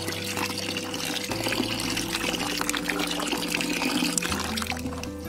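Water poured steadily onto two kilograms of fresh cow dung to make a paste for jeevamrit, a continuous close splashing and trickling with a low background hum throughout.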